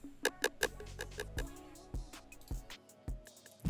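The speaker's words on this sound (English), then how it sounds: "if you want to make the rim sound like it's got a manual delay" A sharp rim percussion hit repeats in a quick series of echoing taps that fade away, like a delay trail, followed by sparse clicks.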